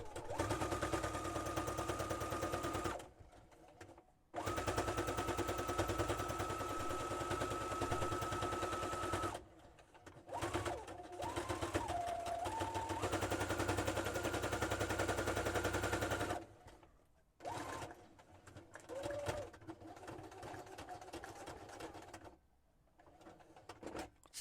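A sewing machine runs in rapid mechanical stitching bursts through thick material with a steady whirring hum, stopping and restarting several times, close by.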